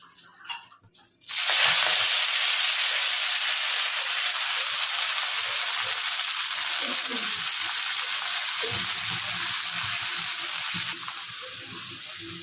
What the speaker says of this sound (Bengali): তেলটা গরম বসিয়ে দিয়েছি আর গরম হয়েও গেছে। এখন আগে শাকটা দিয়ে দেবো।